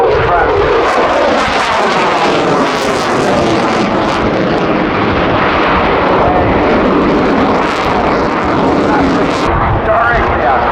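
A Eurofighter Typhoon jet flies an air show display with reheat engaged, a loud, continuous, rumbling roar that churns and surges throughout, with crowd voices or commentary mixed underneath.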